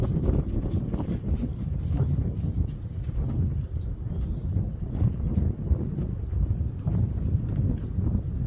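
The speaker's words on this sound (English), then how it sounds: "It's getting pretty windy." Steady wind buffeting a microphone outdoors at a rifle range, a continuous low rumble with gusty swells lasting the whole stretch and no other distinct sounds.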